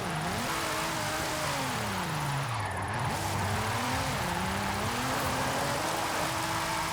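A supercar drifts in the racing game Forza Horizon 5, its engine revving up and down in wavering sweeps under constant tyre and road noise, fairly faint and without talk.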